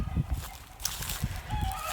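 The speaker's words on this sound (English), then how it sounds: "when those chickens started in again" Chickens on a creekside property clucking and squawking in short irregular bursts at moderate distance, with some outdoor background noise.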